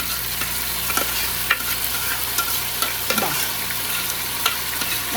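Mango pieces with salt, chili, onion and ginger fry in a pan with a dense, continuous sizzle. Occasional stirring clicks and scrapes are heard close by.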